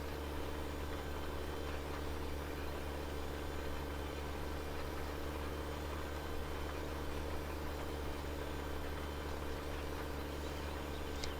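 A Steyr tractor pulls a seeder in Farming Simulator 17. Its engine holds a steady, droning hum with constant vibration, loud and unbroken throughout.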